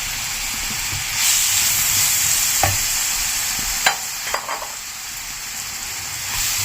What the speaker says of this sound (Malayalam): ഈ നെയ്യ് നന്നായിട്ടൊന്ന് ചൂടായി കഴിയുമ്പോഴത്തേക്ക് നമ്മൾ കട്ട് ചെയ്ത് വെച്ചിരിക്കുന്ന പഴം ഇതിനകത്തിലോട്ടിട്ട് ചെറുതായിട്ടൊന്ന്